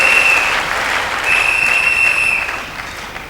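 A church congregation applauding during a sermon, loud sustained clapping from a large crowd with a shrill whistle cutting through at the start and again midway.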